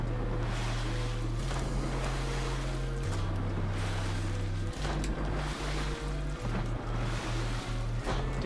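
Splashing swim movement through water in Fortnite, steady and continuous with wave-like washing and low game hum throughout, no talking.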